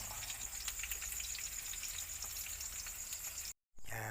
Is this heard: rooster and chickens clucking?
no